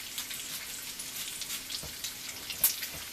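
Bacon sizzles in a pan at a camp cookout, a soft, steady crackle with small pops scattered through, fairly quiet and with no talking.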